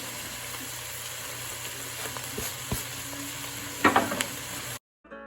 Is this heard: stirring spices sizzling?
yes